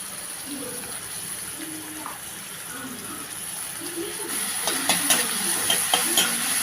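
Sliced onion with ginger-garlic paste sizzling in hot oil in a pan, a steady soft frying hiss with occasional stirring scrapes, rising a little louder toward the end, close and on its own.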